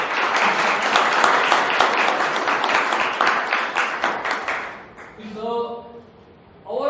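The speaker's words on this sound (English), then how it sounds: "So let's give him a round of applause." Applause fills a Toastmasters-style club meeting for about five seconds, dense and close, then fades as a voice speaks over the tail end.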